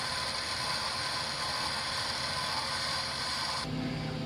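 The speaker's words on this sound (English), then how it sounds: "I'm just using a 4-flute HSS end mill to clean up these holes" A 4-flute HSS end mill cleans up holes in a metal torque plate for an EJ25 engine, giving a steady, even machining whine and rattle that changes character abruptly near the end.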